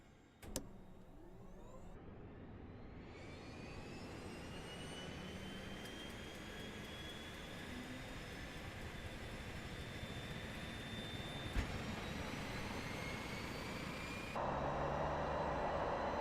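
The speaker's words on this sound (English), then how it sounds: "Just that kind of turbine sound spin, it just sounds fantastic." Steady turbine whine from PMDG Boeing jet engines in Microsoft Flight Simulator, a sustained broadband roar with a slowly rising high tone as the engines spool up, holding evenly throughout with a brief click near the start.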